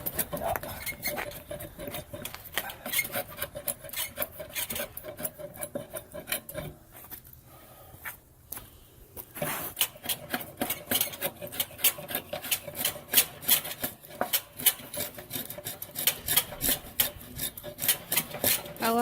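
A hand tool scrapes and shaves along a timber frame joint in a barn build, making a continuous close rasping and scraping that pauses briefly midway before carrying on with sharper strokes.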